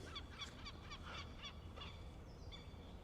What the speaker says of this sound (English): They're not ducks. Geese, birds.